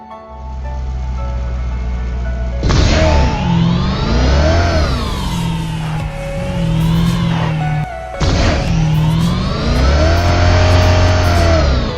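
A car engine in the video game PUBG runs loud and close for about twelve seconds, revving up in rising and falling sweeps, dropping briefly, then surging again through gear shifts.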